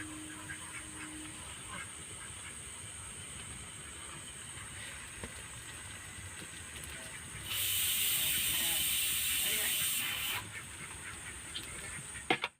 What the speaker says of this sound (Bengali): এই যে আমি যে গ্রেট করে রেখেছিলাম আলুটা, সেটা আমি দিয়ে দিচ্ছি এর মধ্যে